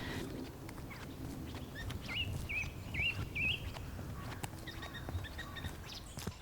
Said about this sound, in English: can hear the birds chirping